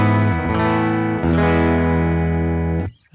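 Electric guitar played through a worship pedalboard with no compression, delay or reverb, giving a clean tone with sustained ringing chords that change twice before cutting off abruptly.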